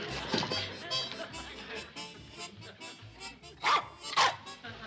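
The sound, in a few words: dog barking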